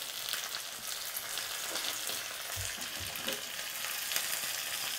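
Mustard seeds, dried chillies and curry leaves frying in hot oil, a continuous close sizzle with faint crackles and pops and no talk.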